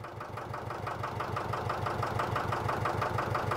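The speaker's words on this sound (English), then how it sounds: "It was still nearly at full throttle, but it sounded like it was revving down." A sailboat's engine runs near full throttle during a sea trial off the Yucatán, a steady pulsing drone with a fast regular beat that builds slightly in loudness and holds, fairly quiet and alone.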